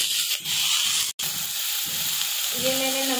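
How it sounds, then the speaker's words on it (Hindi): Onion hitting hot oil in a kadhai, a loud close sizzle and hiss that holds steady for a few seconds, with a faint tonal hum entering near the end. "अब मैं कढ़ाई में 2 चम्मच और तेल डालूंगी, प्याज डालूंगी"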